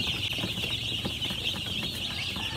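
Baby chicks on a farm chirp in a dense, continuous high-pitched chorus, close and steady throughout with no pauses.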